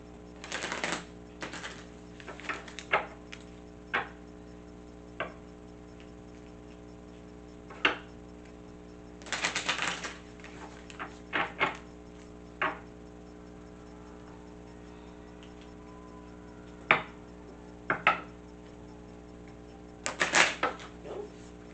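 Oracle cards shuffled by hand over about twenty seconds, a series of sharp flicking and riffling bursts with quiet gaps between them, close and fairly soft, with no talking.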